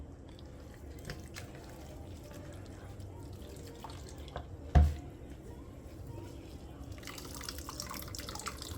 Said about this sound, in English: Gonna squeeze the milk from the coconut.